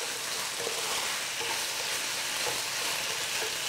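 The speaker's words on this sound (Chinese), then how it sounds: "我们先把西芹放进来，混合这个鸡翅，我们先炒一炒" Celery is stir-fried with black pepper chicken wings in a wok, giving a loud, dense, continuous sizzle close up with no voices.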